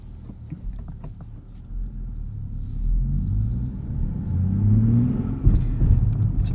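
A 2023 Nissan Z with a manual clutch, heard from inside as a low engine rumble that swells and rises in pitch through several gear shifts, growing louder toward the end.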